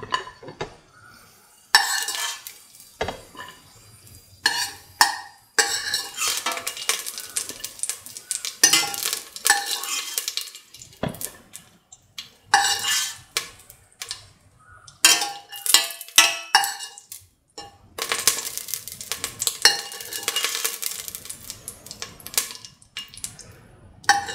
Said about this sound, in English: Now take off the cashews onto the plate.